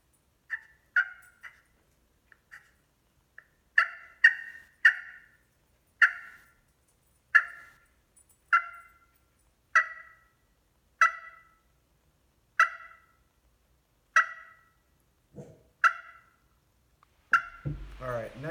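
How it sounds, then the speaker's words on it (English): Turkey friction call played by dashing a striker about a quarter inch across a slate, giving a series of sharp, evenly spaced clucks and yelps, close and clear, with a rougher burst at the end. "you'll take your striker, about a 1/4 inch dash across your slate, your slate, your glass, anything like that"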